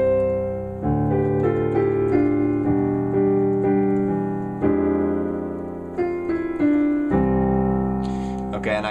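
Solo piano plays a passage of a song, with sustained chords and a melody line moving across about nine seconds at steady, full volume and no talking.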